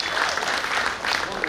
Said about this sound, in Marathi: जोरदार टाळ्या आदरणीय बंटी सावंत यांच्यासाठी।